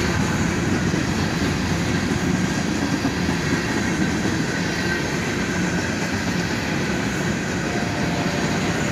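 A CSX freight train hauled by three AC44CW locomotives, two in YN2 paint, passes close by with a constant heavy rumble of rolling wagons and rail noise that holds steady throughout.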